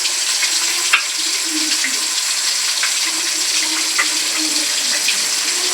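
Fish pieces fry in a pan in a home kitchen, giving a continuous close sizzle with faint pops and no talk.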